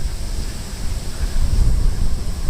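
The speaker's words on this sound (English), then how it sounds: "So the wind is picking up for sure." Wind gusts outdoors on a walk along the Tamagawa Josui canal path in Tokyo. It gives a loud, low rumbling buffet on the microphone that swells partway through, with no voices.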